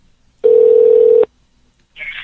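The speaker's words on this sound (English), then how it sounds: "now it is ringing" A telephone ringback tone on an outgoing call, one steady loud burst of about a second, followed by a pause before a faint start of the next sound.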